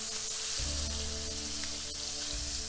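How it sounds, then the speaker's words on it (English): Steak frying in a hot pan, a faint, steady crackling sizzle with soft pops and low hum underneath, close by and without talk. "Oh wow, it's already sizzling"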